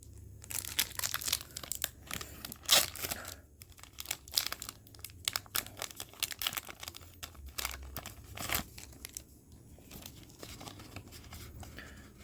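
A Yu-Gi-Oh Legendary Duelists: Duels from the Deep card pack wrapper is torn and crinkled open close by, with irregular bursts of foil crackling and tearing over about twelve seconds and no talk.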